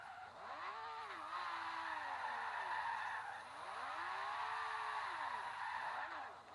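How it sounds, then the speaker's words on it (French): A Lamborghini Aventador in Forza Horizon 2 revs hard through a circular burnout, its engine note rising and falling in long sweeping waves with a steady hiss of tire noise, loud and continuous throughout. "un burn en rond, on va tenter"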